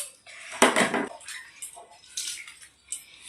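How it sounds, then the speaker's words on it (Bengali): A bell metal bowl and spoon clink together close up, a bright ringing strike followed by a few lighter, scattered taps and chimes. "কাঁসার বাটি আর কাঁসার চামচ"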